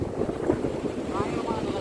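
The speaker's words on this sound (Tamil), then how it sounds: "சரியான காற்று இதெல்லாம் வந்து விசில போகிறது" Strong, steady wind at sea over a fishing boat during cast net fishing, a continuous loud rush buffeting the microphone with no break.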